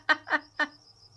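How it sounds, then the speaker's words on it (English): Crickets at night give a thin, steady high trill in the background, interrupted by three short, louder chirp-like bursts in quick succession. "oh, now you can really hear the crickets"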